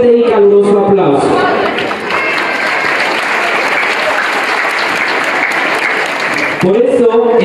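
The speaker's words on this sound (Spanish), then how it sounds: "la señorita Remedios Guadalupe Carreño Cruz, para la cual pido un fuerte y caluroso aplauso" Loud, sustained applause fills a quinceañera celebration in Oaxaca, steady clapping from the gathered guests for about five seconds, with a voice speaking over the microphone just before and after.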